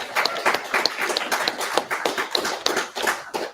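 Audience round of applause at a hackathon, a dense run of claps that stays steady and fairly loud throughout, with no voices over it.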